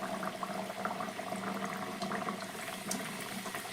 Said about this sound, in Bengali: এবার বেলে রাখা কচুরিটা তেলের মধ্যে আমি এবার ছেড়ে দিচ্ছি।